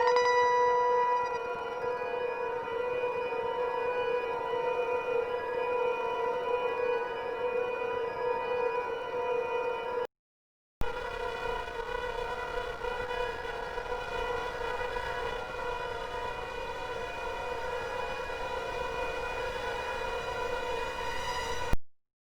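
A sampled pitch played in reverse on a sampler: a steady, bright sustained tone with rich overtones holds for about ten seconds, breaks off briefly, then returns and ends with a sharp cutoff.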